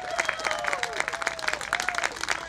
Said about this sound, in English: So won't you put your hands together and give Val Lerch a round of applause.